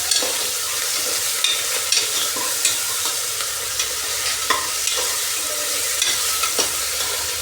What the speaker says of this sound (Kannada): ಇವಾಗ ಶುಂಠಿ ಬೆಳ್ಳುಳ್ಳಿ ಪೇಸ್ಟ್ ಹಾಕ್ಕೊತಾ ಇದ್ದೀನಿ.